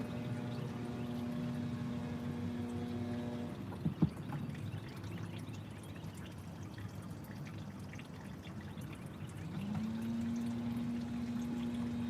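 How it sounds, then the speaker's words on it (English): Engine oil draining from a Toyota Prius during head gasket work, a steady soft pouring trickle beneath a constant mechanical hum, with one brief knock partway through. "Just waiting for the oil to drain"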